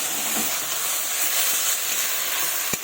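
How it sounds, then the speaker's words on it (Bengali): Spice paste of onion and coriander paste being fried in a pan for a fish curry with cauliflower, potato and tomato, a steady close hiss of sizzling with a faint scrape near the end. "এবার ভালোভাবে কষাবো এটাকে মশলাটা দিয়ে"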